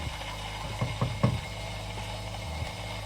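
Ecozy Brezzano espresso machine's built-in grinder working through coffee beans, a quiet steady mechanical hum with a few brief knocking clicks near the middle.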